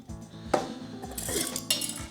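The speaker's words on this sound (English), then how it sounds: "This is a Snow Peak TI Solo, which comes with 2 pots." Snow Peak Ti Solo titanium cook set, two nesting pots knocking and clinking together up close, a few light metallic clanks and scrapes in quick succession with no talk.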